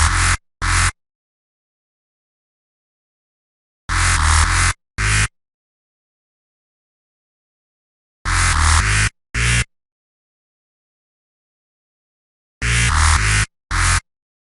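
Synth bass patch built in NI Massive, played in short repeating bursts: two stabs, a long pause, then the pattern again, four times, loud and separated by silence.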